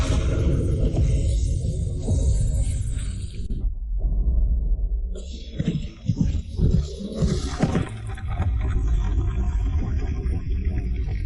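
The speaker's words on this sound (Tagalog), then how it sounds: "Bumaba ang tunay na 5 kulog." Thunder rumbles as an animation sound effect, a loud, deep, continuous roar with a brief dip partway through and crackling bursts as it swells again, alone without voices.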